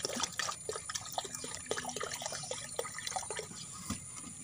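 A liquid nitrobacter culture is poured into an eggshell calcium mixture with milk, giving close trickling, dripping and splashing sounds with small crackles, steady and moderately loud, with no speech.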